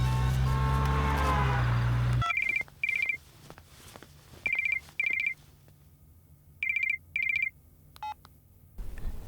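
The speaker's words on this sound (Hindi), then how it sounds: "बेलो, बाबा को फोन लगा।" A telephone rings during a call in a Hindi-dubbed South Indian thriller film: a low tone stops abruptly, then paired electronic ring bursts repeat with pauses against a faint background hum.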